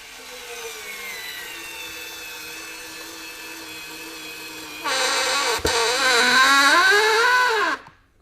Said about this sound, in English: So again, takes a little effort to do so, but was able to drive that screw.